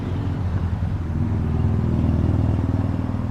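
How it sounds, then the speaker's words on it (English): Motorcycles rumble past on a nearby road, a steady low engine drone with slight revving throughout, fairly close and continuous. "I can hear them motorcycles moving"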